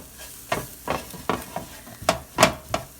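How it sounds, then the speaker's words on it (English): Sweet potato black bean enchilada mix is stirred in a crock pot, a series of close, thick scraping and squelching strokes with an irregular rhythm, alone without talk. "let's go ahead and stir that"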